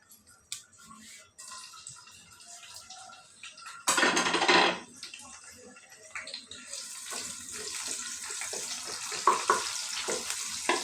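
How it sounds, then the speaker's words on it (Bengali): Potatoes fry in a pan with a steady crackling sizzle, broken by a brief louder burst of hissing midway, likely as ingredients are stirred or added, then settling into a brighter, denser sizzle. "এই যে আলুটা ভাজি করতেছি।"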